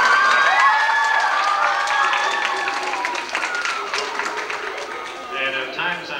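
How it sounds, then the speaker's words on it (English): Parents at a 1990 elementary school graduation get clapping and cheering from a crowd that includes children's voices. The sound stays loud and fairly near throughout, with voices calling out over it. "Parents, you deserve a great big round of applause from your kids for the wonderful job you have done."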